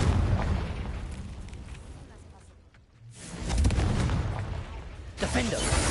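A Confringo fire spell explosion in Hogwarts Legacy, a rumbling boom that fades, then a second loud blast and another sharp burst, with a brief lull in the middle.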